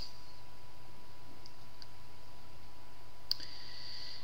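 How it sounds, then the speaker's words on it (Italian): A single sharp computer mouse click sounds near the end, close and distinct over a faint steady hum, while someone works on an Ubuntu desktop's settings. "allora clic"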